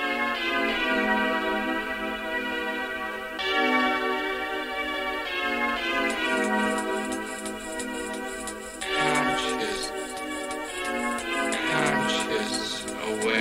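At a 1994 London jungle rave, a DJ plays a loud, bright, ringing bell sample, struck in repeated tolling hits that sustain and layer over the music for several seconds.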